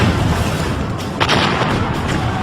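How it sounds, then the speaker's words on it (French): Rapid bursts of 20 mm anti-aircraft gunfire in a World War II battle near the Remagen bridge, heard as dense, repeated booming thuds amid continuous rumbling combat noise. "ils se font pilonner par les canons anti-aériens de 20 mm"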